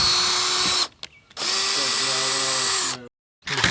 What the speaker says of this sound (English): All right, so now we're going to take our drill,